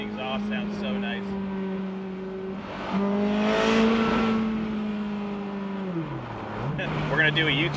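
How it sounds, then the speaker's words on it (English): A 2006 Ferrari F430 Spider with a V8 and tube exhaust drones steadily from inside the cabin, its tone rising as it revs, then dropping as it shifts, with a voice talking over it. "Oh, the tubey exhaust sounds so nice."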